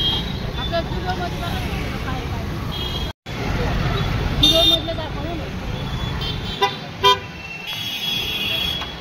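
Busy Indian street traffic with cars and motor vehicles passing close by, a steady roadway rumble broken by several short horn toots, with voices faintly in the mix.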